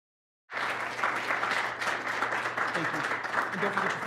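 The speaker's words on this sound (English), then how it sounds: "I think they deserve a round of applause." An audience at a policy panel on the Inflation Reduction Act breaks into sustained applause after a sudden start, a dense, steady wash of clapping from many hands that fills the room.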